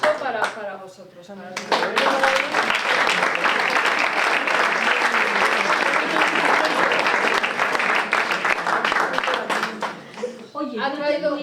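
An audience bursts into full applause at a storytelling event, a thick, continuous clatter of clapping that swells and holds for several seconds, with voices speaking briefly before it starts and again as it fades.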